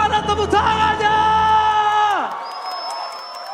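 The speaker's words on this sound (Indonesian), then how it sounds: "mana tepuk tangannya?" Crowd at the MPL Arena for a Mobile Legends esports match cheers and whoops loudly for about two seconds, with a sustained tonal sound sweeping downward as the noise falls away, leaving a thin high tone.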